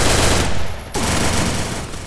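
MP5 submachine gun fire in a shooting video game, a loud continuous burst filling the whole span with only a brief dip partway through.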